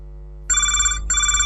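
Telephone ringing on an FM radio phone-in programme: after a low hum, two loud bursts of a bright electronic ring follow one another with a brief gap between.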